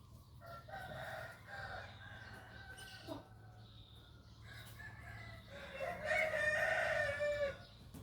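Chickens cluck and a rooster crows close by, with a busier burst of clucking toward the end over steady farmyard background noise.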